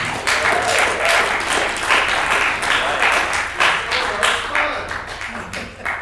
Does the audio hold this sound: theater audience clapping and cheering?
yes